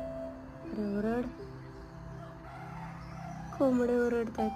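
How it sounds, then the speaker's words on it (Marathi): Roosters crow in an Alibag village, two distinct cock-a-doodle-doo calls a few seconds apart, the second louder and nearer, over a quiet rural background. "कोंबडे ओरडतात।"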